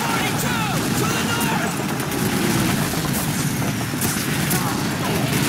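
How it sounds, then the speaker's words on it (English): MG-42 machine gun fire in a World War II battle video game, a dense, continuous rattle of gunfire and explosions filling the scene at steady loudness, with shouting voices mixed into the chaos. "Machine gun, MG-42!"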